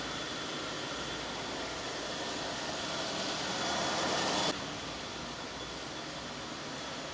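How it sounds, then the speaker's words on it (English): 2015 Jeep Grand Cherokee idling with an evaporative emissions hose fault: a faint, steady engine hum under a broad hiss that swells slightly and then drops away suddenly, leaving the quiet idle running on. "Okay, the vehicle is running behind me."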